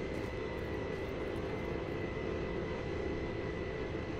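A crashed cargo plane's engine still running in Just Cause 3, a steady loud droning roar with a constant hum, continuous and unchanging throughout with no talking.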